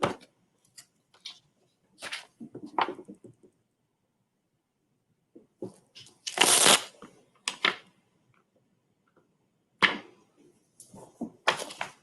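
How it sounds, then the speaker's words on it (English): A heat-press digitally printed transfer being peeled off while still warm, giving several bursts of crackling, tearing peel noise separated by quiet pauses, close up with no talk. "I want to try to peel it so that you guys can see the finish."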